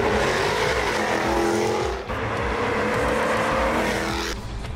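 Jaguar F-Type V8 S from the 2014 model year, its engine revving loudly and aggressively with rising pitch, a brief dip near the middle before it pulls hard again, close and continuous throughout.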